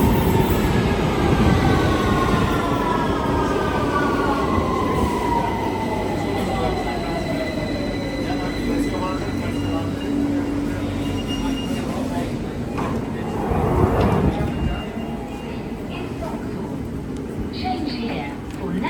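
A London Underground train runs at a station where a change to the Piccadilly line and National Rail services is possible, a steady rumble with falling wheel squeal and a brief louder surge, while a person talks over it.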